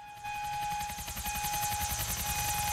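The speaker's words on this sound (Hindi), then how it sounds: "ये हेलीकॉप्टर फोड़ना पड़ेगा।" A helicopter in GTA 4: The Lost and Damned, a loud, steady rotor chop with a fast, even pulse and turbine whine that runs without a break.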